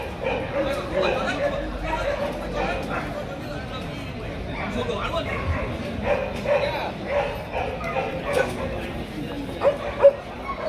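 Several Vietnamese Bac Ha dogs bark, yip and whimper at a breed certification event, with people talking throughout and the dog sounds rising and falling at close to moderate range.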